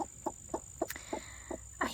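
A broody hen clucks in a steady run of about seven evenly spaced low clucks, close and fairly quiet against a faint constant background hum.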